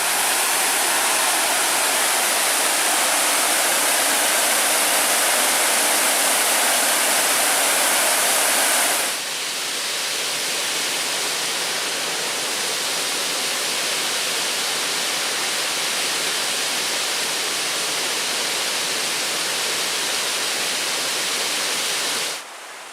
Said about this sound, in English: Trap Falls